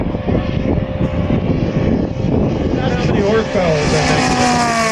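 The engine of the Galloping Ghost, a large RC model plane at an RC flying event, runs loudly and steadily with a rising pitch toward the end, while people talk nearby.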